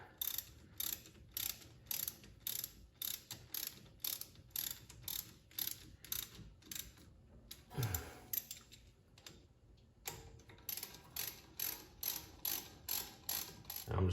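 A ratchet with a 12 mm socket tightening brake caliper slider bolts on a 2007 Honda Pilot, a close, crisp clicking in rapid rhythmic bursts with short pauses between strokes, quiet otherwise.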